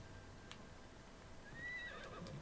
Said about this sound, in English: This time I will actually call my horse.